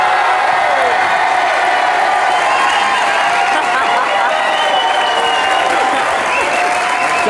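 Loud, sustained applause and cheering from a French television studio audience, with whoops and shouts over dense clapping, close and continuous throughout.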